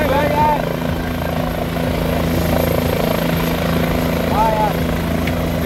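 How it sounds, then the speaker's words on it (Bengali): A helicopter lands at the Kedarnath helipad in the Himalayas, its rotor and engine droning loudly and steadily throughout, with voices in the background. "হেলিকপ্টারে নেমে গেল"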